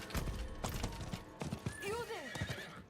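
A horse mount in Diablo IV whinnies with a falling, wavering call over quick clip-clop hooves, both fairly close, while a person talks over the sounds.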